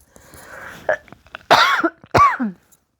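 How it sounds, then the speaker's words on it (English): A few harsh coughs in quick succession, close and fairly loud, with a brief throat-clearing sound before them. "Excuse me, I have to cough."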